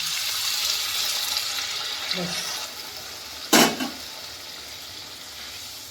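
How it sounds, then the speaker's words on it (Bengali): Hot water splashes briefly into paneer masala simmering in a pan, a short pour rising over a constant background hiss. "এবার আমি একটু গরম জল করে নিয়েছি গরম জলটা এতটা দেবো না অল্প করে"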